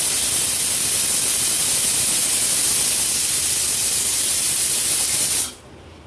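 A pressure cooker with chickpea curry vents steam in a loud, continuous close hiss that holds steady, then cuts off abruptly near the end.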